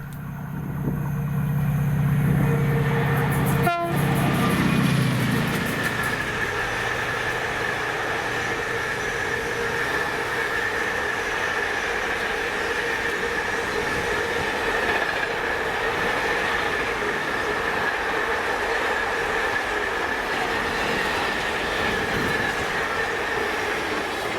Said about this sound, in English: 4M48, the 1622 Mossend to Daventry Tesco Express with 68005 leading 88009.